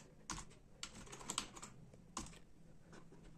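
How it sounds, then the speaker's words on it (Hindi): Keys on an external keyboard connected to a mobile phone are tapped in quick irregular clicks, close and quiet, with a few louder strokes standing out. "व्हाट्सएप ओपन करता हूँ और यहाँ पर कुछ टाइप करना चाहता हूँ यहाँ से कीबोर्ड से"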